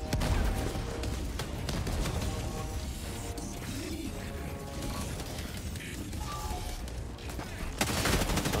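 Dense, continuous barrage of overlapping blasts and rapid gunfire-like cracks, loud and chaotic throughout with no pauses. An artillery barrage in the video game Helldivers 2.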